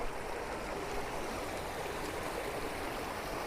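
Steady, gentle rush of the low, slow-flowing Souparnika river at Kollur Mookambika, continuous and even throughout, with no voices.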